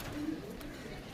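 Pigeons, including a golden and Bajra cross kept as hobby birds, coo softly and steadily through a short stretch, with low murmuring calls close by and no talk over them.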